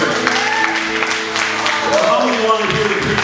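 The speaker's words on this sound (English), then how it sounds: "Just give the Lord a hand clap of praise." A church congregation claps hands in praise during a service, the quick scattered claps mixed with voices calling out and singing over them at close range.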